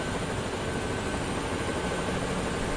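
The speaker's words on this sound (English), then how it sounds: "Rotors powering down," Helicopter rotors spooling down in the DCS World flight simulator, a steady broadband whir and engine drone that holds fairly even across the short stretch with no voices.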